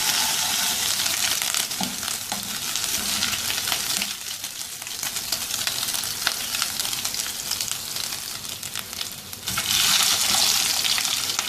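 Garlic and ginger, coarsely crushed rather than pasted, fry in hot oil for a highway-style chicken karahi, giving a steady, loud, close sizzle that fills the whole stretch without talk and swells slightly near the end.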